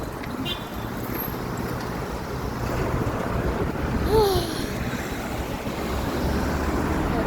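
Steady wind rumbles and buffets a microphone outdoors, a constant broadband roar with a gust swelling midway.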